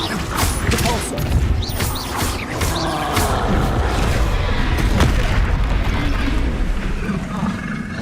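Repeated Repulsor spell blasts in the Hogwarts Legacy video game, booming crashes and thuds in a dense, continuous barrage of combat effects, loud and close throughout.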